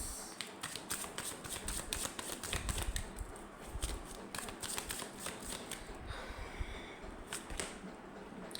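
Tarot cards being shuffled and drawn, repeated quick riffles and sharp flicks of card stock, close and fairly quiet with no speech.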